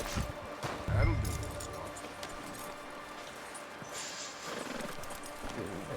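A horse's hooves clip-clop at a steady gait in Red Dead Redemption 2, with an occasional whinny among busy game ambience. A voice talks at times over the quiet hoofbeats.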